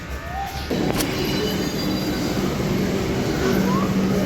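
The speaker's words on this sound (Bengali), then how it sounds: "আর আমরা ফার্স্ট টাইম মেট্রো করে যাবো" Steady rumble and whir of a Kolkata metro train in motion after leaving Rabindra Sarobar station, heard from inside the carriage, with a faint high squeal of wheels partway through.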